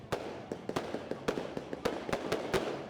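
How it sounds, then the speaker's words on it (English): Fireworks crack and pop in a rapid irregular string of sharp bursts at the Crazy Donkey Festival, mid-distance and steady over a low background rumble. "The Crazy Donkey Festival ends in style with fireworks show"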